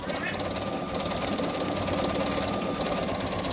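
A Brother NQ1700E embroidery machine stitches a butterfly design, giving a steady, continuous rapid whirring hum with a fast needle rhythm, close and moderately loud throughout, with no talking.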